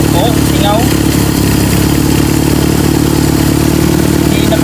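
A Toyota 5K carbureted engine runs loudly and steadily close by, a constant idling drone with light mechanical clatter, while someone talks over it.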